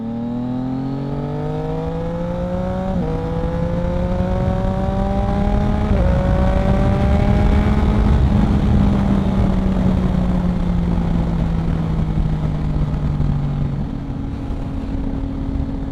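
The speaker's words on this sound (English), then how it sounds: "Shall we do a quick acceleration here? Second gear." A Yamaha MT-09 motorcycle accelerates hard in second gear, its engine note climbing in pitch in rising stages and then easing off, loud and close with no talking.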